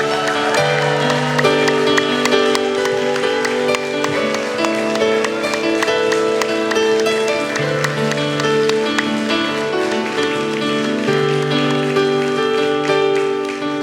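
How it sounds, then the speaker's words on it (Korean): A Christmas Sunday worship congregation keeps up continuous, even applause, a loud rain-like patter running over steady music that carries on beneath it from start to finish. "우리 들어가실 때까지 박수하겠습니다."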